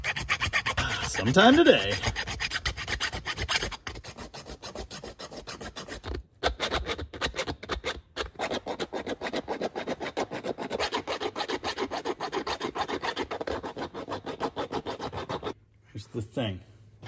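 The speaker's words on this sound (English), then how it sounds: "then file out the slot, and hopefully it'll be absolutely perfect" Hand file rasping back and forth on a metal distributor part for a 1973 Dodge Charger 440 big block, steady close strokes running almost continuously, with brief pauses and a short spoken remark near the end.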